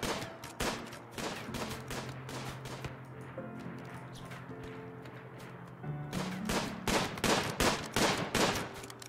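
Repeated gunshots in RimWorld as colonists hunt, sharp bursts clustered at the start and again near the end, with a stretch of game music in between.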